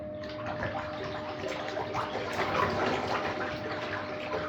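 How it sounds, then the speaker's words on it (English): Water swirling and gurgling in a whirlpool at the suction nozzle of a 12-volt electric gold dredge, a steady loud rushing wash with no break from start to end. "Even just that whirlpool, you can see it's a lot of suction here."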